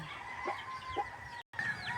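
A mother hen with five chicks clucks softly a few times close by, with short low calls over a steady background hum.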